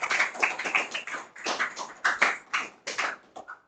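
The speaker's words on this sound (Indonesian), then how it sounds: "silakan tepuk tangan untuk kelompoknya Amel dan Sylvia." Classroom applause for a student group that has just presented, a short burst of hand claps with uneven rhythm, moderately close, with no voices over it.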